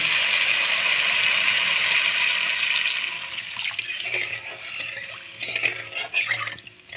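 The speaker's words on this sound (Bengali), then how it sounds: "আমি এখন এতে অ্যাড করে দেব জল।" Water pours into a pan of fish curry masala, a steady rushing splash for about three seconds. It then gives way to softer sizzling and clinking of the pan, close by and without talk.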